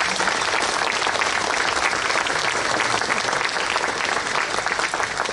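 At a Jadotville memorial ceremony, a large crowd delivers steady, loud applause, a thick continuous patter of many hands clapping close by without letting up.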